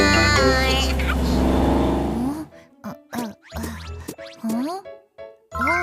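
A cartoon car sound effect in a children's alphabet song opens with a loud revving engine whoosh for about two seconds, followed by a voice speaking in short bursts.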